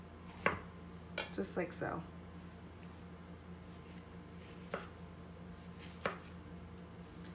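A knife slices through peaches on a cutting board, giving a quick cluster of soft, crisp cuts near the start and a few single taps later. The sounds are close and moderately loud over a quiet kitchen hum, with a brief voice in between.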